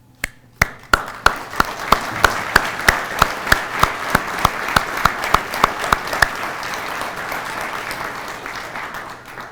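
An audience applauding dispatchers and emergency representatives at a recognition event, a few sharp claps building into sustained steady clapping from a crowd in a hall, loud and continuous.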